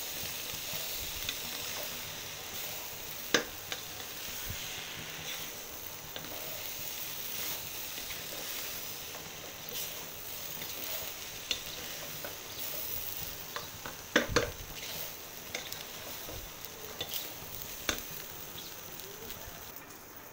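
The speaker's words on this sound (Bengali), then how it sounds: "এখন আমি নেড়ে দিব।" Chinese-style fried rice with a little sugar is turned over in a pan, giving a faint, steady sizzle broken by a few scattered spatula clicks and scrapes.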